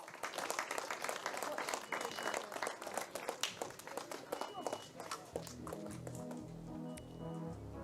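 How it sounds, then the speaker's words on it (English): Audience applause at a kart racing event, a dense patter of clapping with an announcer's voice over it, then a rhythmic music beat comes in near the end. "Let's hear a big round of applause for the Soddy Kart team driver, Max Orloff."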